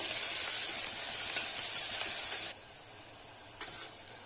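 Chopped onions sauté in a hot pan for mutton keema with methi and potato, a steady loud sizzle and hiss for about two and a half seconds, then quieter with a brief flare of frying near the end.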